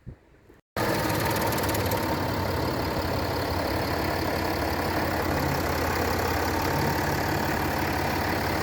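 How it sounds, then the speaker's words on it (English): A Land Rover Discovery 4 V6 diesel engine idles steadily after a brief click, a smooth continuous rumble with only mild clatter, close and loud throughout. "the V6 engine is very smooth, and being a V6 diesel, it doesn't clatter a lot"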